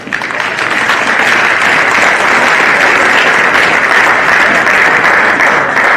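Loud, dense applause rolls on continuously from the crowd at a girls' under-18 football grand final between Ainslie and the Magpies, steady throughout with no break.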